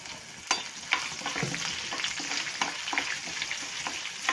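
Chopped green chillies fry in hot oil in a pan for coconut rice, giving a steady close sizzle with a few scraping stirs and no talking.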